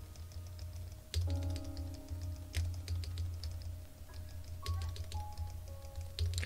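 Keystrokes clatter on a Keycult No.2/65 mechanical keyboard build, a steady run of quiet, close clicks and taps with occasional louder bottom-outs.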